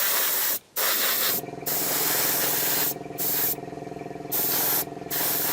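Airbrush spraying a paint layer onto a Bandai 1/12 scale Boba Fett model, a close steady hiss in repeated bursts broken by short pauses, with a faint mechanical hum beneath.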